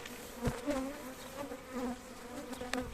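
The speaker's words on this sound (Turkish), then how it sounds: "Tabi arılar biraz huzursuzlandı." Dense, continuous buzzing of many agitated bees close by during hive maintenance, droning steadily with rising and falling swells and a few sharp nearby passes.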